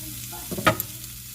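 Sausage, potatoes and vegetables sizzle softly in a pan, then a brief close stir or scrape rises for a moment before settling back to a faint frying hiss.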